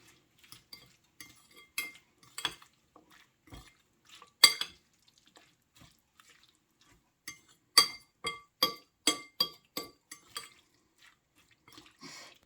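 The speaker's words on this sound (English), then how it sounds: "I'm just gonna mix all these and combine it together" A spoon stirs and mixes liver ingredients together in a pot, making intermittent clinks and scrapes in irregular bursts, with a livelier run of regular metallic taps toward the end and no talking.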